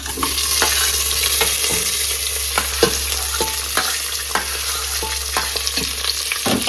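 Tempering spices crackle and sizzle in hot oil inside a Robo cooker while sambar is being made. The close, continuous frying hiss carries sharp pops and stirring clicks scattered throughout.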